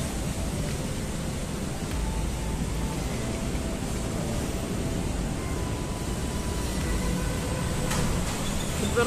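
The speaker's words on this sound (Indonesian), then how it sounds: "Nah, inilah kereta barang atau kereta kontainer ya" A CC201-hauled freight container train rumbles past at a station area in Jatinegara, a steady broadband roar of rolling wheels and engine holding level throughout, with faint squeals above, no talk.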